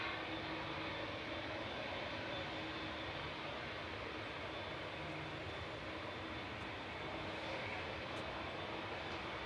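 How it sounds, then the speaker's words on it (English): Ryanair Boeing 737-800 on flight 557 departing Manchester Airport for Dublin, a continuous distant jet roar that stays even and unbroken throughout. "Ryanair heading off to Dublin, flight 557, GRUKG 737-800."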